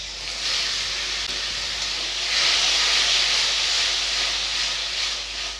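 Water poured into a hot pan of softened, chopped tomatoes in a home kitchen while cooking a spinach and chana dal dish, producing a steady, loud sizzling hiss that swells and continues throughout.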